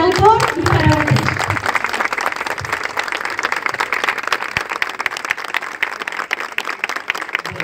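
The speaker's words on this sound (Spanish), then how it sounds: "Y un aplauso para el autor y para Botella." Audience applause at a statue unveiling for a community dog, sustained dense clapping that fades gradually, with a voice speaking at the start.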